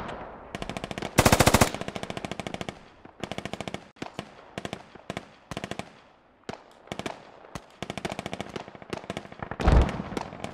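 Automatic gunfire in the military shooter game Squad: repeated rapid bursts of sharp shots, some long and dense, some short, with one louder nearby volley and fainter distant fire in between.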